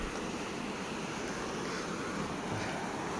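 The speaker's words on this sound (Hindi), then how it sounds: "पानी का बहाव बहुत तेज है" Fast-flowing floodwater of the Rapti River in Balrampur, Uttar Pradesh, a steady, loud broadband rush of water with wind buffeting the microphone, continuous and unbroken with no voices.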